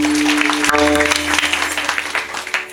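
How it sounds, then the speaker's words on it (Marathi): Loud audience applause at a kirtan performance, dense sustained clapping by many hands over a steady tonal drone, fading toward the end. "टाळी वाजवा जोरात."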